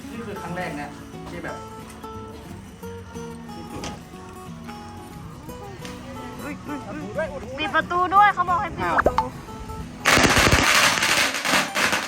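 Firecrackers go off in a rapid crackling burst near the end, loud and close, after a stretch of people talking over background music.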